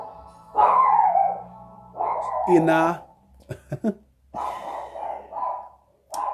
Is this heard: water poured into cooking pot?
no